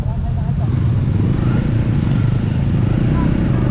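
A Honda CL300 motorcycle is ridden, its engine giving a steady, loud low-pitched drone throughout with wind rumble, and no pauses in the sound.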